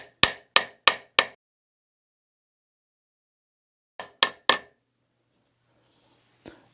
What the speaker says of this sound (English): Take your rawhide mallet and start hammering straight down on the top.